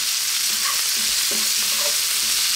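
Vegetables and mushrooms stir fry in a pan over medium heat, giving a constant close hiss of sizzling with a few faint clinks and scrapes as they are moved around.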